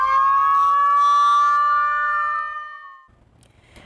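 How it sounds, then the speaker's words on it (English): An emergency vehicle siren sounds loud and steady with a long sustained tone, then fades over about three seconds, leaving faint background noise. "Do you want me to do the sirens again?"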